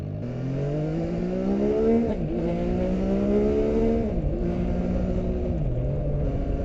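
A 2022 MV Agusta Turismo Veloce Lusso motorcycle hums steadily while ridden through bends, engine pitch rising and dipping with several throttle changes, close and continuous with no talk.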